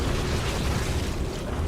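Gas released in a StarCraft 2 cinematic, a loud, dense rushing roar with a deep rumbling body, sustained at an even level with no speech.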